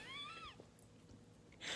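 A domestic cat gives one short rising-and-falling meow, close and clear, followed by a quiet pause and a brief breathy sound at the end.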